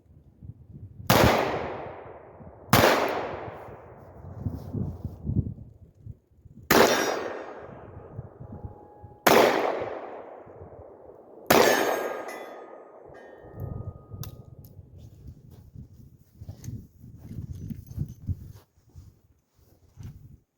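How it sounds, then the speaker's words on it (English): Five loud, sharp .38 revolver shots from a Smith & Wesson, EAA or Taurus, fired close by at irregular intervals, each with a ringing decay, followed by quieter range noise. "We're gonna shoot this 38 again"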